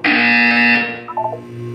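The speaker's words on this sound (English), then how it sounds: "You will hear a buzzer." A loud, steady electronic buzzer from the video game Portal 2 sounds for about a second, then gives way to a few short tonal blips and a lingering low hum.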